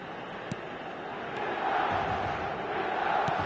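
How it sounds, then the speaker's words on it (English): A stadium crowd cheers in an eFootball match on PS4 with Inter Milan playing: a steady, distant roar that swells partway through, while faint commentary sits underneath. "Certainly gave this crowd something to really cheer about"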